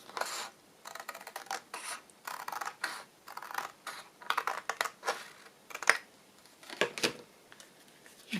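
Scissors cutting paper for a travel journal, a run of close, crisp snips and slides in short bursts with brief pauses between, no voices.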